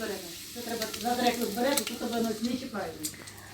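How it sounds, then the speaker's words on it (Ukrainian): Chopped chicken cutlets fry in a pan at home, giving a steady close sizzle with light stirring and scraping, with faint background sounds throughout. "Смажаться рублені курячі котлети."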